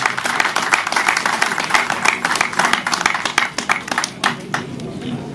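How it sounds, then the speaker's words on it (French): Audience clapping loudly and steadily at the festive opening ceremony of a fraternity sports tournament, dense applause throughout that thins slightly toward the end. "Je voudrais encore vous prier d'applaudir très fort pour lui."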